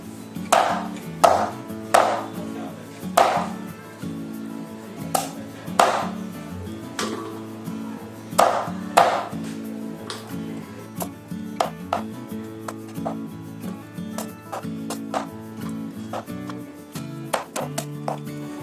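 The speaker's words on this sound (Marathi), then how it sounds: "म्हणून मी आता फोडी करते." A knife chops young jackfruit into pieces on a board. Sharp, close thuds come in uneven bursts, with quieter scraping and tapping between them and no voices.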